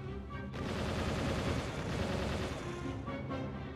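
Plasma cannon fire in the Star Fox: Assault video game, heard as a dense, sustained barrage of loud blasts and booms that runs throughout.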